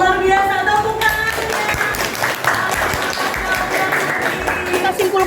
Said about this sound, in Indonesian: Oke, alhamdulillah luar biasa, tepuk tangan